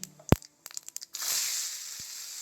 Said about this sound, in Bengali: এবার দেব আমি পেঁয়াজ কুচি